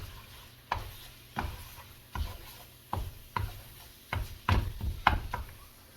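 Sausage being broken up in a pan for gravy, with a spatula striking and scraping the pan in a steady series of about ten knocks under a faint sizzle, close and quiet, no talk.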